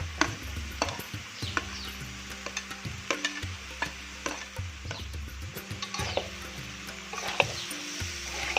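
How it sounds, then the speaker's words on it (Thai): Cucumber and onion stir-fry in a pan for a sweet and sour cucumber dish, with a steady sizzle under repeated scraping and clinking of a utensil against the pan. "ใส่แตงกวาลงไปเลยนะคะตามด้วยหอมใหญ่"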